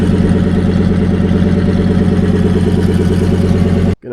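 A V10 engine idles roughly after a cold start, a loud, close, steady low rumble with a fast even pulse and some clatter, cutting off abruptly near the end.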